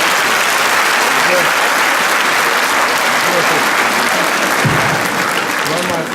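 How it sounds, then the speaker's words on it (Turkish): Loud, steady audience applause fills a hall at a Kayseri Caucasian association's 50th-anniversary nostalgia gala night, dense clapping with crowd murmur and voices beneath. "Hepinizden de kuvvetli bir alkış rica ediyorum."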